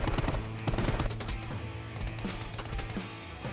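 Machine-gun fire from a P-51D Mustang fighter plane in a Battlefield video game, rapid bursts of automatic fire rattling loudly over a steady engine drone.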